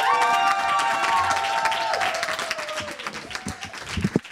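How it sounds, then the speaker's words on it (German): Applause and cheering greet a comedian taking the stage at a live comedy show, loud and dense with whoops at first, then thinning into scattered claps toward the end. "Grossen Applaus für den Oliver Pollack!"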